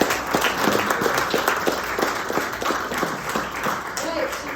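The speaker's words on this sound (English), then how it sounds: "Ladies and gentlemen, big round of applause." An audience at a city council candidate forum in North Miami applauds, a dense, sustained patter of clapping with scattered individual claps standing out, fairly close and loud, with some voices mixed in underneath.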